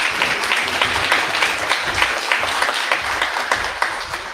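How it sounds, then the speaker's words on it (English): Audience at a faith leaders' HIV awareness gathering in Jackson, Mississippi applauds Pastor Jennifer Beard, a dense, sustained crowd clapping at moderate volume with no pause. "Let's give Pastor Jennifer Beard another round of applause."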